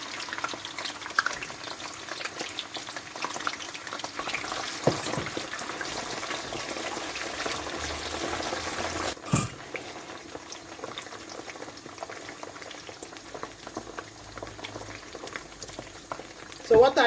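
Yam frying in hot oil that holds a little water and onions, a steady bubbling sizzle that fills the whole stretch at close range, with a sharp stir or clatter near the middle and another at the end.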